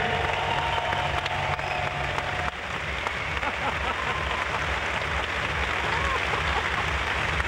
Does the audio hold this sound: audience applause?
yes